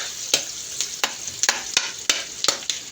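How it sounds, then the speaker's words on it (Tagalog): Garlic, onion and a little ginger sautéing in a pan for a mung bean dish, a bright close sizzle punctuated by sharp, regular scrapes and clacks of a spatula, with no voices. "gisan po tayo ng bawang sibuyas, konting luya"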